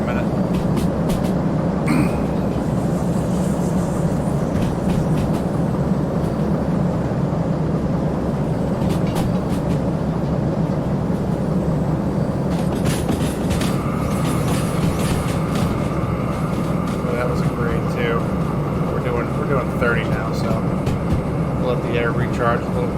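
A heavy freight train rolls down a grade in the Derail Valley game, a steady loud rumble of wheels and cars with intermittent clacks and metallic squeals, and someone talks over it.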